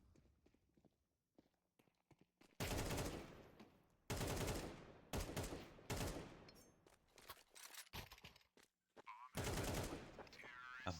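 AK rifle bursts from the shooter game Counter-Strike, several loud broadband volleys of rapid automatic fire separated by short gaps, with quieter clicks and footstep-like movement sounds in between.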